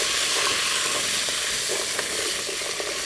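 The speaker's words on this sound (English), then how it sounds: "We're going to saute all these vegetables together" Vegetables with turmeric and coriander powder sautéing in a hot pan, a dense continuous sizzle and hiss held close and loud throughout, with faint stirring scrapes and no talk.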